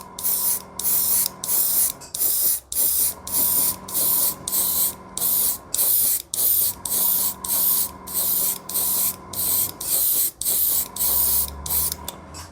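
An airbrush sprays weathering dust onto a Z-scale covered wagon model in a long series of short, regular hissing bursts separated by brief pauses, close and fairly loud, with a faint mechanical hum underneath.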